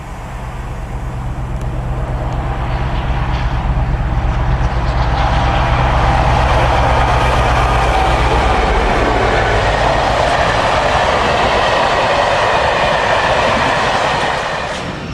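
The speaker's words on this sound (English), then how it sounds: "60074 passes Shrivenham in February 2013 while working the Thiel to Robeston tanks." Class 60 diesel locomotive 60074 passing Shrivenham hauling a train of tank wagons, a loud rumbling engine approaching and then a long, steady roar and rattle of wagons rolling by.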